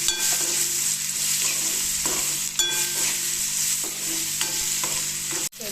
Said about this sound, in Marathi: बघा आता मी कांदा टाकला आणि कांदा आणि बोंबील परत पुन्हा एकत्र करून घ्यायचे. कांदा चांगला लाल होऊन द्यायचा.